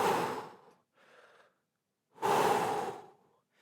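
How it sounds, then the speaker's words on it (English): Slow, deliberate breaths during a high-intensity bootcamp workout: a long audible exhale, a faint softer breath, then another long heavy breath, close and alone with no talk. "Really slow my breath down."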